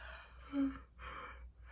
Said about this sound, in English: I'm gonna yawn again.